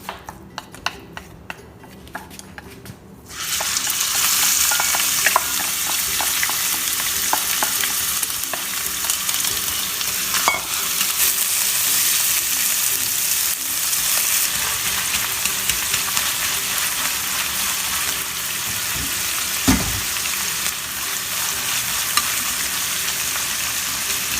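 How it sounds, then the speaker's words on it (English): Ground pork frying in oil gives a loud, continuous sizzle that bursts in after a few seconds of quieter rustling, with occasional stirring scrapes and a knock partway through. "first oil, then ground pork"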